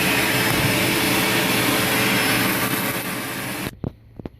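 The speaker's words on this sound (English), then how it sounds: "and I use a vacuum cleaner." A vacuum cleaner sucks up wood pellets from a guinea pig cage with a loud, steady whooshing roar that cuts off near the end, followed by a few sharp clicks and knocks.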